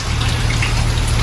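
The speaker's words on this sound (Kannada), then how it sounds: "ಸಕ್ಕತ್ತಾಗಿ ಮಳೆ ಬರ್ತಾಯಿದೆ ನೋಡ್ರಿ." Heavy rain falls hard and constantly, with a dense, unbroken wash of close patter over a low steady hum and no voices.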